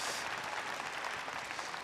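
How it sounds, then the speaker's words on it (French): Dense crowd applause fills the whole stretch, a steady wash of many hands clapping at an even level with no voices on top. "Applaudissements, s'il vous plaît."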